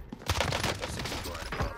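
A burst of STG44 automatic fire in the video game Warzone, a dense, loud volley of rapid shots packed into under two seconds.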